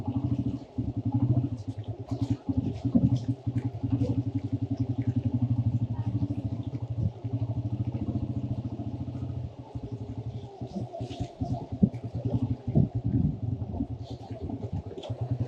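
Loaded motorcycle riding a slippery mountain road out of Kalash Valley, its engine a steady, close, droning rumble throughout with some clattering and faint broadband road noise.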